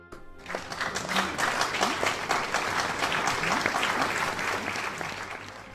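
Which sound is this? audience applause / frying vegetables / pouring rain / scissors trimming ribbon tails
audience applause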